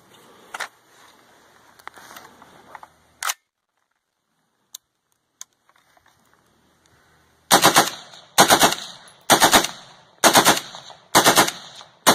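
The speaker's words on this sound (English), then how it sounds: "demonstrate with the Scar Heavy and then I'll shoot the Scar Light. Just 5 rounds for demonstration purposes." An FN SCAR Heavy rifle fires five loud, sharp rounds on full auto at an outdoor range, each shot a distinct crack in a quick evenly spaced burst, after a few quieter clicks and handling noises.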